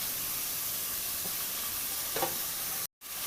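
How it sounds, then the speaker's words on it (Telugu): Chopped onions and green chillies fry toward brown in a pan with an even, moderate hiss, broken by a couple of soft stirring scrapes and a brief dropout near the end. "ఉల్లిపాయలు, పచ్చిమిరపకాయ ముక్కలు బాగా బ్రౌన్ కలర్ వచ్చేలాగా వేపుకోవాలి"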